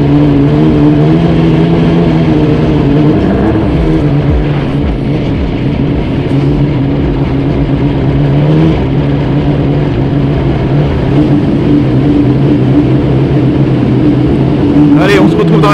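A historic Leyton House Formula 1 race car engine drives on track, a loud, steady onboard drone with shifting pitch that lasts throughout while a voice talks.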